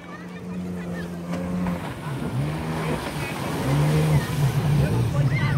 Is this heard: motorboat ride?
yes